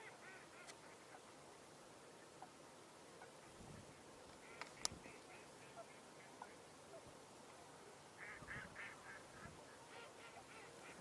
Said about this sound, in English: Those are the mallards.